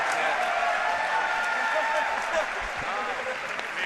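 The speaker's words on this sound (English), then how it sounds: "The crowd goes wild." Crowd applauding and cheering at a Rubik's cube speedsolving competition, a dense, sustained wash of clapping and voices at a steady level throughout, with a commentator's voice faintly underneath.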